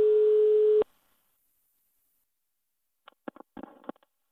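A mobile phone gives off a single steady electronic call tone, loud and close, lasting under a second before it cuts off, followed by quiet and a few faint handling clicks.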